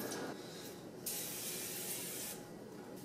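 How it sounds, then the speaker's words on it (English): A steady hiss of cooking spray from an aerosol can into a skillet, with a stronger burst lasting over a second, sprayed close by. "I should probably spray it first with a little bit of cooking spray"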